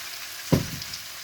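Mushrooms being stir-fried with oyster sauce in a pan for pancit-style spaghetti, giving one short burst of sizzling and stirring that quickly settles to a low background hiss.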